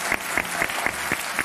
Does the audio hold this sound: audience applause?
yes